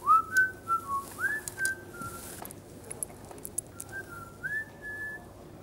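A person whistles a short, sliding melodic tune in several phrases, clear and fairly close over a quiet room.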